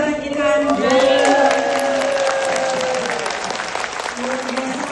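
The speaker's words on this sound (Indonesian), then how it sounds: "Kita berikan tepuk tangan ke belakang para pembicara kita." A standing audience at a family business seminar applauds the speakers, with dense, loud clapping that fades slightly toward the end while a voice talks over it.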